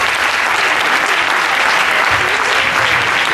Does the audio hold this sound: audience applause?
yes